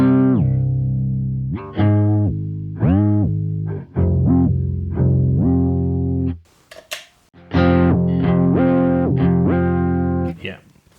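Electric guitar on an ambient post-rock pedalboard, a whammy effect set to shift an octave down, plays a string of notes that swoop down in pitch with brief gaps between phrases, distorted and close.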